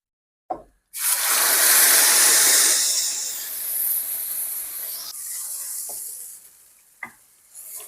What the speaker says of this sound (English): Now it's crackling, so I'm going to add the paste in now.